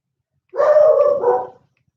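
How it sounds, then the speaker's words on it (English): A dog barks once in a short, loud burst with a brief second yelp tacked on, close by and otherwise in silence, with no talking. "dog barking. Something is up."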